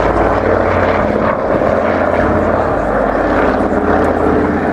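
A T-21 navigational trainer propeller aircraft, later converted to passenger transport, at the RAF Cosford air show, its piston engines droning loud and near in a steady, throbbing roar.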